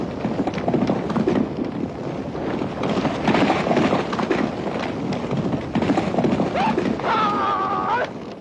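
A herd of horses on Shandong grassland thunders past in a dense, continuous rumble of galloping hooves under wind noise, with a sharp whinny rising near the end and a voice talking over it.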